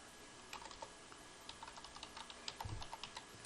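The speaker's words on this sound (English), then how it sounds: "Just typing in properties." Soft, quick clicks of someone typing on a computer keyboard, close and quiet, in an irregular patter.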